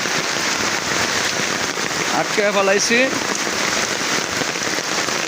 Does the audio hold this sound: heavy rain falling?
yes